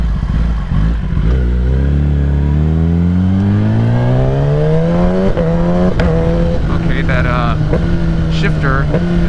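A 2021 Kawasaki ZX-10 sport bike with a freshly flashed ECU, its engine revving loud and close, rising steadily in pitch over several seconds, then holding high with sharp blips and throttle snaps.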